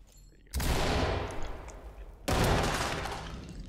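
A stinger grenade goes off twice in the tactical shooter Ready or Not, inside a hospital, each blast a sudden loud burst with a long crackling, rattling tail that fades before the next.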